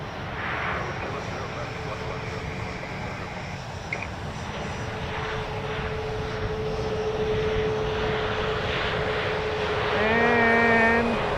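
WestJet airliner passing at Edmonton International Airport, a steady broad engine roar that swells toward the end, with a rising whine and tonal hum layered on top, heard at a moderate distance.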